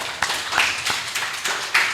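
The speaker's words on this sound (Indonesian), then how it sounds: "Tepuk tangan." A small group claps hands at a community gathering in Cilegon, with sparse, uneven claps, some sharper strikes standing out over a light background.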